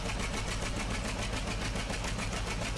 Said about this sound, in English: I know some of you guys really like the sound I have in the 730 diesel